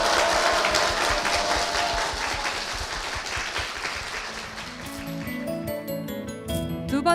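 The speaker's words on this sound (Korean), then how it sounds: "이 가정을 위해서 여러분 힘찬 축복의 박수 부탁드리겠습니다" A church congregation gives a hearty round of blessing applause, dense clapping that thins out about halfway as soft organ-like music rises underneath.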